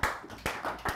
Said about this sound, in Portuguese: Palmas para quem contratou o Félix Torres.